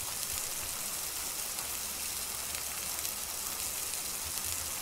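Food sizzles in a pan inside a video game kitchen, giving a continuous, even frying hiss at moderate level with no voices over it.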